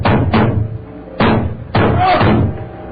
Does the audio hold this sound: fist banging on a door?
yes